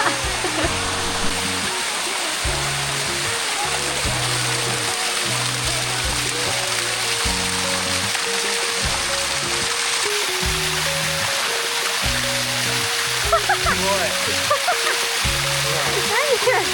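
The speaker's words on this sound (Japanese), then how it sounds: "次めっちゃ急な滝があるので、これから登っていきたいと思います。" A steep waterfall at Bua Thong in a Chiang Mai forest gives off a steady, loud rushing roar of water that runs without a break, with background music layered over it throughout.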